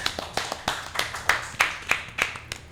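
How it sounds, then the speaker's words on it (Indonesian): A group of friends clap their hands together in a steady run of about fourteen sharp claps, close by and fairly loud, with no one talking over them. "Tepuk tangan dulu dong teman-teman"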